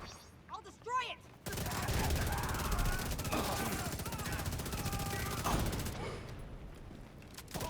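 Enemy gunfire in The Division 2 video game, sustained rapid automatic bursts starting abruptly after a brief quiet opening, loud and dense for several seconds before easing off.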